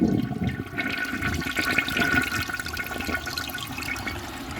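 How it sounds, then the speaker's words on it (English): A 1960 Crane Oxford toilet flushes with a loud, close rush of swirling water that gradually eases off, with no voices. "I'm gonna give it a flush and see if it removes or even gets close to removing that."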